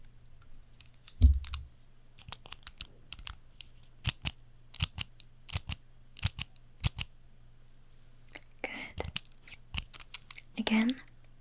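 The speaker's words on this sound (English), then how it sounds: "tell me how many times you hear the sound of a pen clicking" Sharp pen clicks come in short, isolated bursts, about a dozen spread irregularly across the clip, close and crisp over a faint steady hum, with a couple of soft rustles near the start and end.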